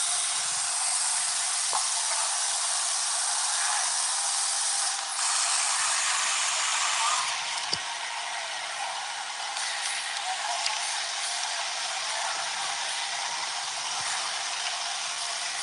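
A laser cutting machine with a high-speed servo system and cutting head slicing metal plates on an industry expo floor, a continuous loud high-pitched hiss with faint mechanical ticks and no talking.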